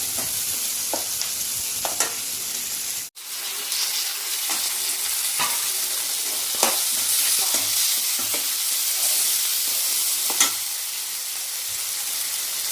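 Seasoning for spicy Rayalaseema uggani fries on a high flame in a steady, loud sizzle, with scraping stirs and occasional clinks of a utensil against the pan throughout, and no speech.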